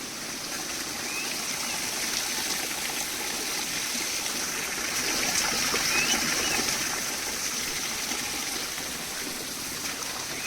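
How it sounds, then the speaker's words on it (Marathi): Water in a stream flows somewhere below, a soft continuous rushing and trickling murmur at low level, with faint bird calls in the background. "इकडे पाणी नाही खालती झोत आहे आवाज येत असेल तुम्हाला"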